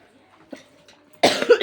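A woman suffering from a persistent cough gives one sudden harsh cough burst, loud and close, after a quiet stretch with faint background sounds.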